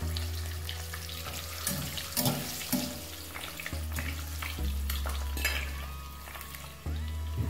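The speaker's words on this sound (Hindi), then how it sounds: "आलू को भी फ्राई कर लेंगे।" Potatoes frying in a pan alongside eggs for a Pakistani aloo anday curry, a steady sizzle with occasional utensil clinks and scraping, with loud low hum and tonal clatter from the kitchen throughout.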